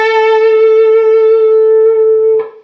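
A single electric guitar lick rings out alone and close, one sustained bright note held with vibrato, a hammer-on and slide movement, ending with a short pick scrape.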